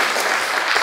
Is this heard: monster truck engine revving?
no